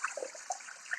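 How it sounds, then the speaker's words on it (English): Rice being rinsed in a Thermomix bowl under a running tap at a kitchen sink gives soft trickling and splashing water, brief, close and fairly quiet, with no talking. "I'm just at my sink giving it a quick rinse."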